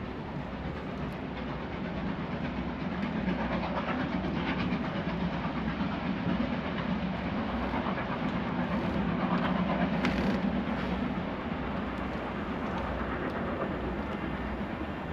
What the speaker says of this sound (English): that's the quietest garage door in the world